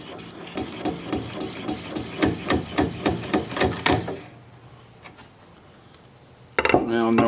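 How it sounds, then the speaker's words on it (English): A lathe gouge cutting a black cherry live-edge bowl, a rapid series of loud rhythmic knocking chatter strikes that stops suddenly, leaving quiet motor hum, then a burst of close noise at the end. "Now I'm going to apply the bevel of the gouge against the bottom of the bowl"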